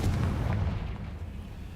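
Confringo fire spell cast in the Hogwarts Legacy video game, a loud booming blast with a deep rumbling low end that rolls on and slowly fades over under two seconds.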